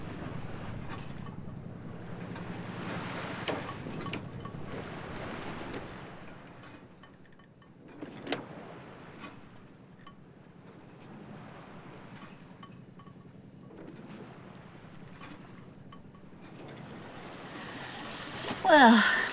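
A sailboat out at sea at night under a half moon, with a steady wash of waves and wind rumbling against the hull and microphone, some gusts louder than others, and a sharp knock near the end.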